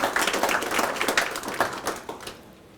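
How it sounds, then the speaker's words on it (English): A modest crowd at a Legion baseball banquet claps for head coaches, the individual claps audible in a loose, moderately close patter that fades out over a few seconds. "give them a nice round of applause"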